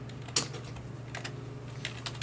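Keys clatter on a computer keyboard with sticking keys, hooked by USB to a MicroBlaze FPGA typing-test setup: a few irregular, quiet clicks scattered over a steady low hum, with no talking.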